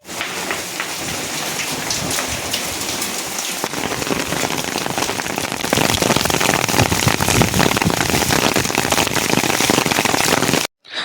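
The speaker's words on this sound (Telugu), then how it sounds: "వర్షం అయితే చాలా గట్టిగా పడుతుంది చూడండి ఎలా పడుతుందో" Heavy rain pours steadily and loudly, a dense continuous hiss that grows stronger partway through before cutting off abruptly at the end.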